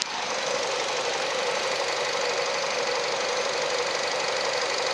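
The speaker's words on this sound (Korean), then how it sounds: "엔진 소리 한번 들어볼게요." A Renault Samsung New SM5 Platinum engine runs steadily with the hood open, giving a constant, close mechanical hum with a faint ticking knock throughout and no voices.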